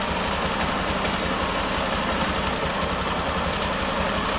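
An auctioned Honda Titan motorcycle left parked for years idles steadily up close, a continuous mechanical clatter that may come from valve noise, with no talking.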